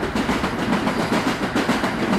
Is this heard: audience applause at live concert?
no